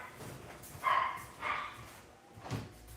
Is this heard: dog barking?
yes